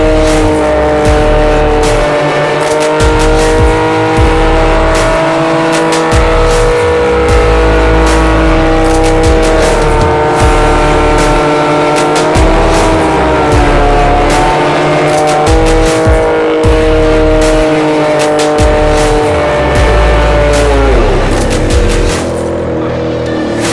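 A Can-Am X3 RS Turbo Max side-by-side does a sustained burnout on worn 32-inch tires, its turbo engine held at high revs with steady tire squeal, loud and close throughout the clip.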